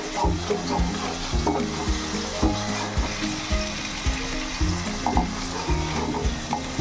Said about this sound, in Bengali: একটু কষানোর জন্য আমি যাতে লেগে না যায় নিচে একটু গরম জল দিয়ে নিলাম